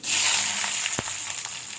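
Cumin seeds and garlic cloves fry in a little hot oil with a steady, loud, close sizzle and one brief knock partway through, no voices.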